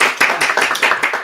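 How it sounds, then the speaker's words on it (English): A small audience gives a brief round of applause at a talk on thyroid care, with quick, fairly close hand claps in uneven bursts. "Give a round of applause."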